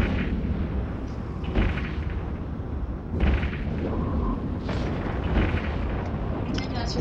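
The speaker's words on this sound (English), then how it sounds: "Now it's time to engage your weapons, Captain." In EVE Online, spaceship weapons fire during a battle against drifters, with dense booming blasts and rumbling explosions repeating steadily throughout, loud and continuous.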